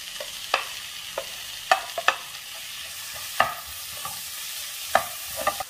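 Chopped tomatoes fry with spices in a pan over a low, constant sizzle, punctuated by sharp, irregular spatula taps and scrapes against the pan.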